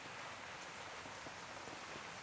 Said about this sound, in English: it's raining here in Florida